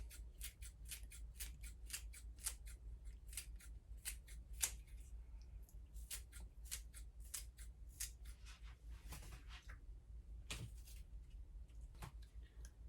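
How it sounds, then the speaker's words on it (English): Scissors snip green onions repeatedly in quick, uneven bursts of crisp clicks, close and fairly quiet, with short pauses between runs of cuts. "we're going to actually just use scissors to cut some of those green onions on top"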